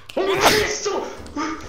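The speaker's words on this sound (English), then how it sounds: "I was sneezing" A single loud, close human sneeze captured during a Lethal Company gaming session: a sharp voiced burst followed by a brief trailing vocal sound.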